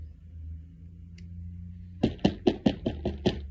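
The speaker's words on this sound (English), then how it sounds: "you heard a knock at the door" A sharp series of about seven knocks on a wooden door, brisk and evenly spaced, loud and close after a quiet stretch with a low hum.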